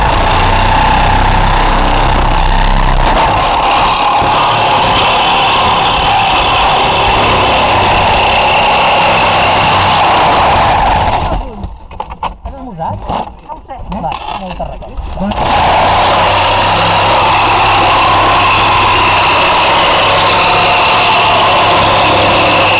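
A saw engine runs steadily and loudly at close range before cutting starts, with a continuous buzzing drone that drops out briefly midway and then resumes, while people talk over it.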